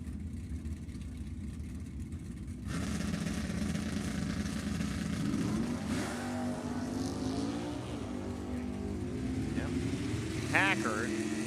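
Drag racing cars at the Pacific National Open rev and accelerate down the strip, a steady engine roar that builds and shifts in pitch, with a commentator talking over it throughout.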